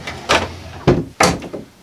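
A wooden drawer in the base of a flip-top tool stand slides and bumps shut three times in quick succession, each a close, dull thud with a short scraping slide.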